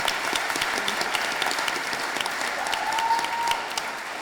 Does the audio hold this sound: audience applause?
yes